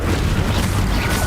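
A fire spell cast in Hogwarts Legacy bursts out as a dense, low, rumbling boom that stays loud and sustained throughout, with no voices.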